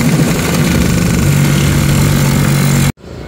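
A Honda Dash 110cc motorcycle engine runs loud and close with a steady buzzing drone, then cuts off abruptly near the end.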